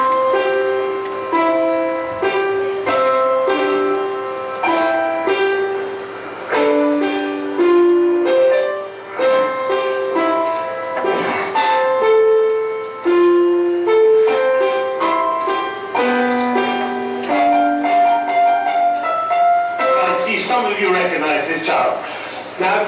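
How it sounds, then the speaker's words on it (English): A 7-year-old child plays the piano, a continuous run of single and layered notes that moves unevenly and a little haltingly, loud and close throughout with no pause. "I want to remind you of what a 7-year-old child sounds like when he plays the piano."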